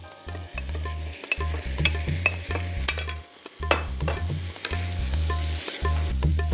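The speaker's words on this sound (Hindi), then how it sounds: "इसलिए झींगे को सिर्फ मसाले में टॉस किया।" Shrimp tossed and frying in masala for a prawn biryani, with steady sizzling, scraping stirs and occasional metallic clinks of a spoon against the pan, close and fairly loud with brief pauses.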